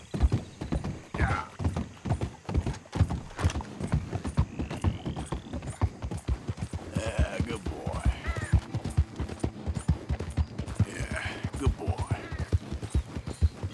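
Horse hooves clip-clop steadily at a walking pace in the Red Dead Redemption 2 video game, with occasional whinnies and neighs over faint ambient game sounds.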